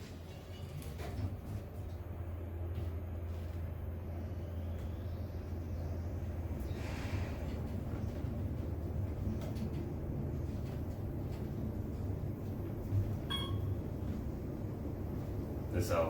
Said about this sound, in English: This elevator's kind of shaky.